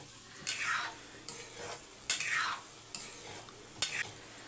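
Food is stirred and mixed in a pan with a utensil, about five distinct scraping strokes at a steady pace, each a bright swish over a faint background sizzle, close and moderately quiet, no speech.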